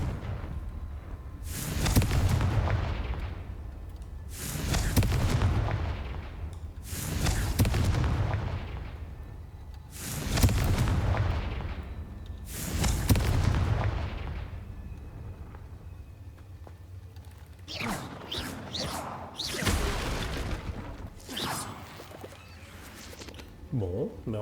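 Confringo fire spell explosions in Hogwarts Legacy inside a spider-filled cave, five heavy booming blasts at a steady rhythm followed by crackling, sharper hits, loud and close.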